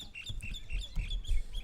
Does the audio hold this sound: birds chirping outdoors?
yes